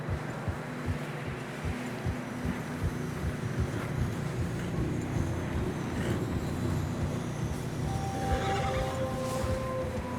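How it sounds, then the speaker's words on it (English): Horses struggling through deep fresh snow on a narrow trail in Red Dead Redemption 2, with snorting and whinnying over a steady low rumble of hooves and wind, and a faint tonal whistle near the end. "Horses are struggling."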